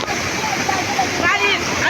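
A waterfall roars as a steady rushing wash, with people talking close by over it.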